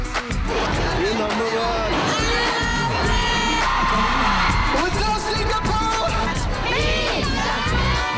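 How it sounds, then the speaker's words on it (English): A large crowd of fans screaming and cheering for Korean pop star Rain, a dense, continuous wall of high-pitched shrieks and shouts, loud and close throughout. "The immense crowds that greeted him wherever he went proved that it literally was Rain's world."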